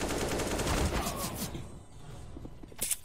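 Gunfire in a first-person shooter game running on a GTX 660 Ti graphics card, with a dense burst of rapid shots over the first second and a half, then quieter scattered sounds and a short sharp burst near the end.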